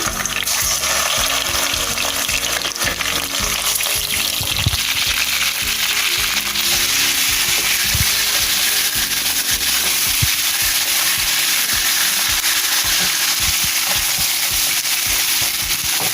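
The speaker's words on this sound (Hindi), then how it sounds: "अब उसी प्याज वाला ऑयल है उसमें डालेंगे हम ये चिकन।" Chicken pieces frying in onion-flavoured oil for a white korma, a steady loud sizzle and crackle filling the whole stretch with occasional stirring clatter, no voices.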